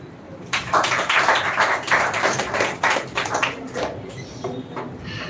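An audience applauds a contestant at a speech competition semi-final, with dense, lively clapping that swells and then eases off over several seconds.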